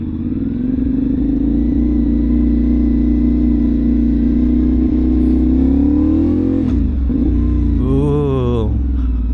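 A 450NK motorcycle engine idles with a steady mid-pitched drone, then is revved sharply near the end, its pitch rising and falling in quick repeated blips, loud and close with no talk over it.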